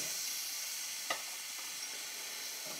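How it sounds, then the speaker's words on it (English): Garlic and onions sautéing in a pan make a constant bright hiss of frying, faint and unbroken, with one small utensil tap and no talking. "This is the most important part of our cooking because it's at the very base of our sauté."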